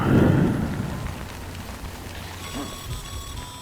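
Video game rain falls in a steady wash, loudest at the start and then easing to a soft hiss, with a faint electronic tone entering near the end.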